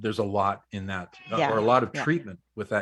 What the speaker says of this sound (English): And that's my cat, by the way.